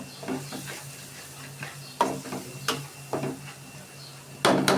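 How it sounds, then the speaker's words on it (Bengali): Beef and spices sautéing in a pan over a medium-low flame with a splash of water, a faint simmering hiss broken by several scraping stirs and a clatter of the spoon at the end, close and without talk. "ভালোভাবে কষিয়ে নিব।"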